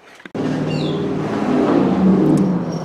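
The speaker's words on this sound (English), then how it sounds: "Cars all over the place, what can I say?" A car passes close by on the road, its engine note rising from a sudden onset into a steady, loud drone that swells slightly before easing, with no talking.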